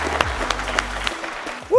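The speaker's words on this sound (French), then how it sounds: "On applaudit bien fort les gars" Audience applause after a submission win in the first round of a fight, brief scattered clapping that fades out quickly, with a voice cutting in at the very end.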